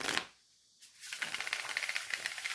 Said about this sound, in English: Oh, look at how well that riffle shuffles.